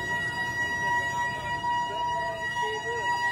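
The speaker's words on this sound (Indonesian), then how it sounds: "Saat ini sirine masih berlangsung menandakan" A tsunami warning siren sounds during an evacuation drill in Padang, a steady sustained tone droning on at moderate distance with faint background crowd murmur.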